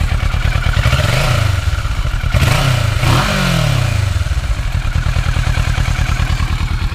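A 2015 Kawasaki Versys 650 motorcycle runs close by, its engine and underslung exhaust throbbing at a steady idle. The engine revs up and down briefly a couple of times, then settles back. Nobody talks.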